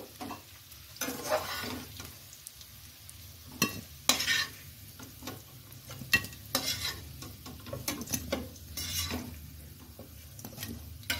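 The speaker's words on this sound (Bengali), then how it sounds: "আমার আলুগুলো লাল করে ভাজা হয়ে গেছে, এগুলো এখন আমি নামিয়ে নেব।" Golden fried potatoes in oil are stirred in a pan and scooped out, with a steady sizzle under repeated scraping and clinking of a utensil against the pan, in irregular bursts.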